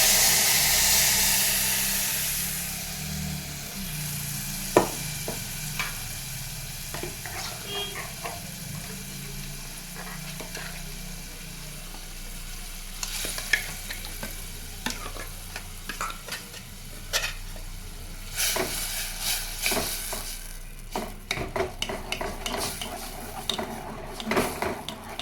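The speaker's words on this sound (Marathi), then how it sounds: "हे बघा, छानपैकी फोडणी बसलेली आहे आपली कडकडून।" Spice tempering crackles and sizzles steadily in a hot pan for a green pigeon pea curry, with occasional sharp pops and stirring scrapes throughout.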